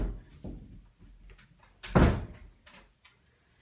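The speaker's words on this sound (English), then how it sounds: "I'm just going to shut the door." A door is shut with a single solid thunk near the middle, surrounded by faint shuffling and handling noises in a quiet room.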